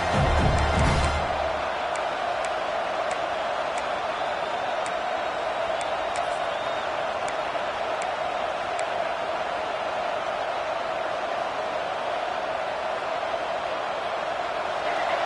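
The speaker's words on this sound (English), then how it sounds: "The roar of the crowd trying to fuel this defense to keep them pinned in their own end." Stadium crowd at a Michigan vs Penn State college football game, a continuous loud roar of massed voices sustained at a steady level across the whole stretch, with faint scattered claps on top.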